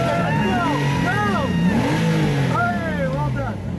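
A Porsche 911 Turbo PDK engine revs among London crowds during the Gumball 3000 rally, with rising and falling revs close by under steady crowd noise and voices.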